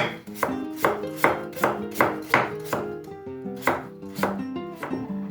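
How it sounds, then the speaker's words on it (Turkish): Rhythmic knife strokes chopping through potatoes on a cutting board, about a dozen crisp, evenly spaced thuds close by. "patateslerimi doğradım"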